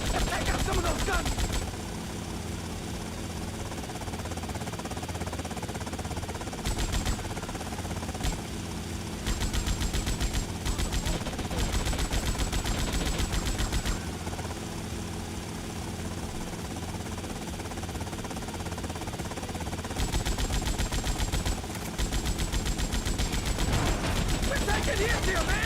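Gunfire fills a war zone in GTA III or Vice City, dense bursts of automatic and single shots that continue loud and nearly unbroken amid game effects, with a voice talking over it.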